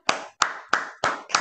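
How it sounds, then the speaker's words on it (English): Five sharp, evenly spaced claps from a single person, loud and close with no other sound. "Let's give her a round of applause."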